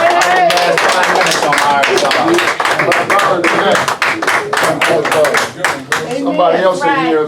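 A small indoor group claps along in rapid, loud, closely spaced claps while voices talk and call out over it throughout.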